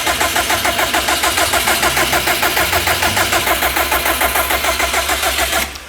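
Turbocharged car engine that has just started and is running rich, idling with a rough, loud pulsing chug in a steady fast rhythm, close by, before it cuts out near the end.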